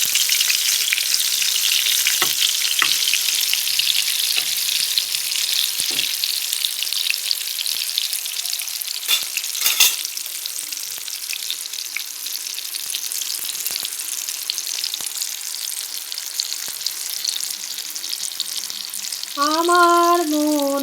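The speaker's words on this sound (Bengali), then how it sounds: "যে বেগুনগুলো সব দিয়ে দিলাম তেলের ভেতর। এবার ধীরে ধীরে ভাজা হোক।" Eggplant pieces fry in hot oil with a steady crackling sizzle, a few clattering bumps early on, and a short burst of tonal sound near the end.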